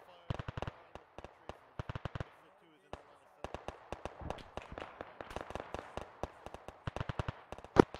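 Sharp gunshots crack in Arma 3, single shots and fast bursts of automatic fire, loud and close, with some echo and a short lull in the middle, and voices talking faintly underneath.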